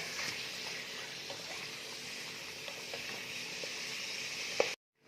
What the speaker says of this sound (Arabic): نقعد نقلي في الجنحين مع الزبده باش الجنحين يديو طعم الزبده